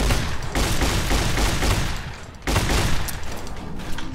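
Sustained minigun fire in Fallout New Vegas, a loud dense roar of rapid shots that dips briefly and then resumes at full force.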